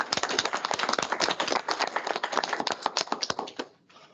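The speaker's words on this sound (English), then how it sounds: "So with that, one more round of applause." Seminar audience gives a round of applause after a talk: a quick, busy patter of many hands clapping for about three and a half seconds, then cutting off abruptly to quiet.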